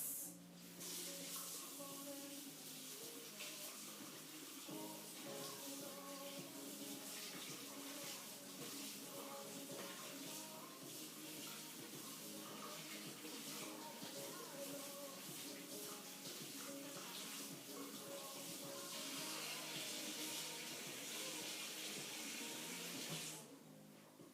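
Running water from a tap pours steadily over a tie-dyed shirt being rinsed, a continuous close splashing rush with slight shifts as the fabric is moved, stopping abruptly at the end.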